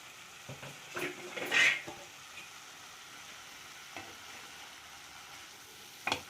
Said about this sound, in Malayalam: ഇനി നമുക്കിതൊന്ന് ഇളക്കിയിട്ട് കൊടുക്കാം.